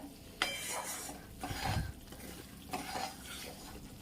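Edible gum for dink ladoo stirred and roasted in a pan over a low flame, with repeated scraping strokes of a spoon against the pan and a soft, steady sizzle beneath, fairly close and with no talking.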